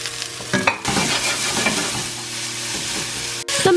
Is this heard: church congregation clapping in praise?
no